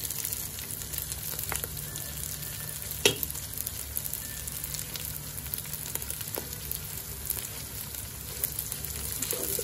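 Half-cooked onions fry in oil for keema karela, a steady soft sizzle with faint crackles and one sharp clink near the middle; no one speaks.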